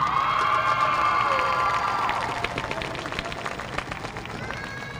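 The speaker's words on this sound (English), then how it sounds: "Big round of applause for the junior high queen and king." A high school football crowd cheers and applauds loudly for the junior high homecoming queen and king, shouts and whoops over steady clapping that gradually thins out.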